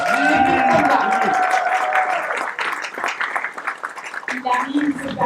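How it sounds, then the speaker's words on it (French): Audience applause at a press conference in Paris, heard as a dense patter of clapping that swells and holds under a presenter's amplified voice speaking French over the crowd. "Sous vos applaudissements, s'il vous plaît, Déplique Pomba."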